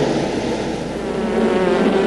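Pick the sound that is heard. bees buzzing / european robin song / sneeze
bees buzzing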